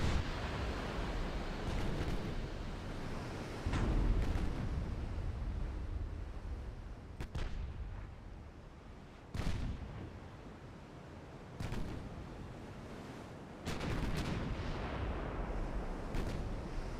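Battleship guns firing and shells landing in the naval game Ultimate Admiral Dreadnoughts, heard as several deep booming blasts spaced seconds apart over a low rumbling sea ambience, with no talking.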